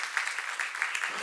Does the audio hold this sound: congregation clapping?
yes